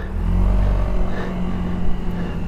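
A Suzuki Burgman 650 scooter's engine rumbles low and close as it pulls away, a steady drone with a slight rise in revs, no voices.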